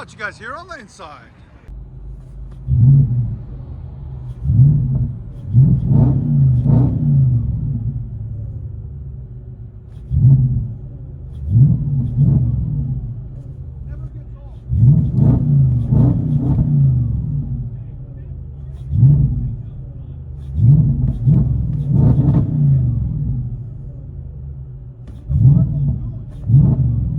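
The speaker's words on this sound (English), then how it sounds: "Let you guys hear on the inside." Interior of a 2012 Audi S5 with a 4.2L V8 and muffler delete: deep, booming engine rumble swelling in repeated revving bursts and settling back to idle between them, loud and close, after a brief voice at the start.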